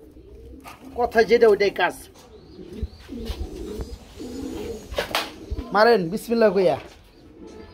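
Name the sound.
pigeons cooing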